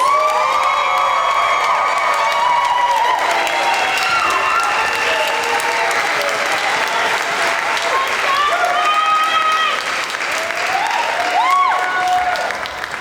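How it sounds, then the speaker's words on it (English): A large graduation crowd at a summer ceremony claps and cheers loudly and continuously, with whoops and shouts rising over sustained applause throughout. "Can we get one more cheer for the graduates?"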